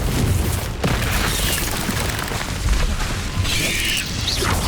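Confringo fire spell blasts in Hogwarts Legacy on Nintendo Switch, a dense, continuous roar of booming, crackling explosion noise with a sharp hit near the start and another burst toward the end, loud throughout.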